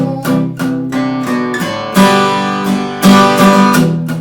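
A guitar strums in short palm-muted bursts, some notes damped and chunky, repeated in a steady rhythm on a song intro, loud and close, no voices.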